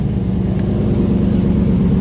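A car engine with an exhaust leak near the muffler runs steadily at idle with a rough, low throaty rumble and a faint puffing rasp, loud and close, with no talking.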